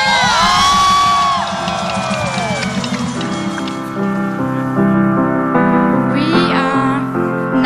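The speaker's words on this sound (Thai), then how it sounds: "ขอ เสียงกรี๊ดดังๆให้กัน MF6 จังหวัดกาลสินค่ะ" Crowd of supporters screaming and cheering loudly at a live Thai competition stage event, with high shrieks over steady music-like tones, continuous and close throughout.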